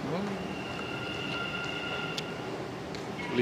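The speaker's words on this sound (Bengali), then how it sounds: "রেড লাইনের মেট্রো আসছে।" A Dubai Metro Red Line train pulls into the station with a steady, loud mechanical rumble and a sustained electric whine running throughout.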